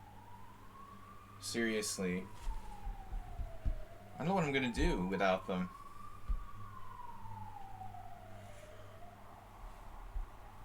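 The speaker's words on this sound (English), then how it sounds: "I'm gonna really miss these ambulances" An ambulance siren wails in a steady rising and falling sweep through Sunday holiday traffic, heard at a distance behind a person talking close by.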